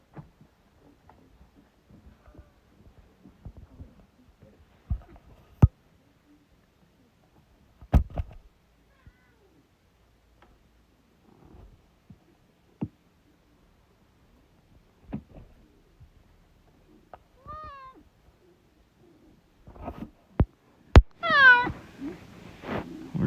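A cat meows a few times near the end, short rising cries following a quiet stretch of scattered soft knocks and clicks.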